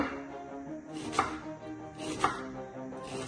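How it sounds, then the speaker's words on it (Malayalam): A knife chops through onion on a board, three crisp cuts spaced about a second apart, close and clear with no talking. "സോ ഇത് നമുക്ക് അരിഞ്ഞിട്ട് വരാം നമ്മള് സവോള അരിയാണ്"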